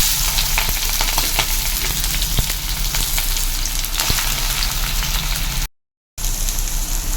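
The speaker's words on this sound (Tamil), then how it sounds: "வெங்காயம் நல்லா வதக்கலாம்." Onions sautéing in hot oil in a pan for a prawn curry, a loud continuous crackling sizzle with scattered pops, close up, broken by a brief moment of silence near the end.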